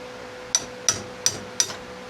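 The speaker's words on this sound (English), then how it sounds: "I'll insert this extension into the socket and beat this with a hammer." Four evenly spaced, sharp metallic hammer strikes on a socket extension, loosening a boat trailer lug nut, ring out close by, each with a brief ringing decay over a faint steady hum.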